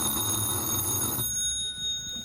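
A telephone bell rings loudly and steadily for a little over a second, then cuts off abruptly, leaving a faint quiet tail.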